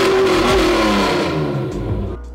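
A red Honda NSX engine revs loudly and close by in a single rising-then-falling burst of mid-pitched engine roar, with no voices heard.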